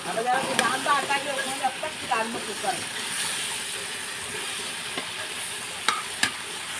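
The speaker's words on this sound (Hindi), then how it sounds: "मैंने इधर लौकी की सब्जी फ्राई कर दी है" Bottle gourd vegetable sizzles as it fries in a pan, with steady hissing and a few clattering stirs and scrapes of a spoon, while a voice speaks faintly in the background.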